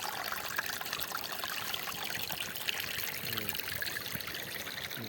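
Steady water falling and trickling at a coastal spot, a constant close splashing flow that fills the whole stretch with no voices.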